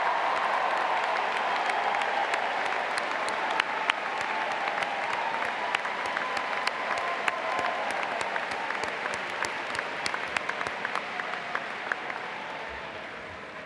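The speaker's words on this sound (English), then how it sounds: "If you all give a big round of applause for your resident assistants." A crowd at a Colorado State University welcome event applauds for resident assistants, a broad steady wash of clapping that slowly thins and fades toward the end.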